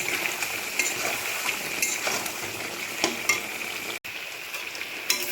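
Mutton sizzles and fries in a pan with Kashmiri chili powder. A spoon scrapes through it with soft rhythmic stirring under a steady hiss, and no voices are heard.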